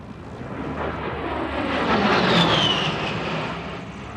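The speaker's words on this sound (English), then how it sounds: "And Mr. Stuart Milson in that beautiful P-51, the Brat 3 from the Kavanaugh Flight Museum." P-51 Mustang warbird performing a slow aerobatic roll at an airshow, its piston engine roar swelling as it passes close by and then fading, with a brief rising whine near the peak.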